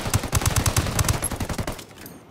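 Rapid automatic gunfire in a Ghost Recon Wildlands firefight, a dense string of loud shots for about two seconds before cutting off abruptly.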